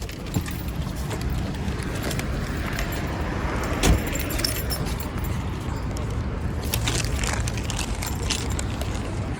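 A car is switched off and its keys jangle, with bright metallic rattles over a low rumble and a sharp click partway through.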